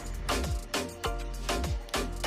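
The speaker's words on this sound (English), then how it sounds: "So I'm gonna spray the back." Hair Resort sea salt spray is misted onto the back of the hair in four quick, evenly spaced pumps, each a soft close hiss with a small click, with no talking.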